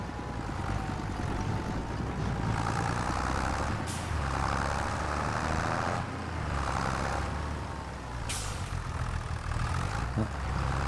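A vehicle in a farming video game slows at a snowy bridge, its engine a steady low rumble with a couple of sharp, brief transient clicks, loud and continuous with no talking.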